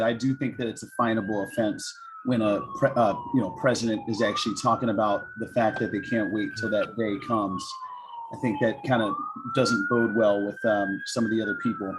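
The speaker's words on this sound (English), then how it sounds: "I apologize for the sirens in the background." A police siren wails steadily in the background, its pitch rising and falling in slow sweeps, while someone talks continuously over it.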